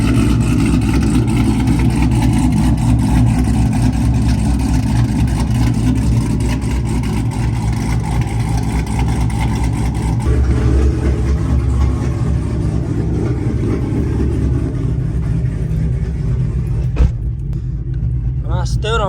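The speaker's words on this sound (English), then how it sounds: "literally take like a whole minute for the idle to go down before it actually starts chopping the way it's supposed to" A cammed Chevrolet Camaro ZL1 V8 idles loud and close, a continuous deep rumbling chop that stays steady throughout with only slight shifts in tone.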